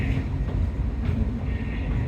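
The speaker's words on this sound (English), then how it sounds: "It's a steam locomotive built right here in Portland in 1958 and 9" The Zooliner, a small steam locomotive built in Portland in 1958–59 and modelled on an 1870s engine, runs along with a steady, loud rumbling roll and faint rhythmic clatter and no talking.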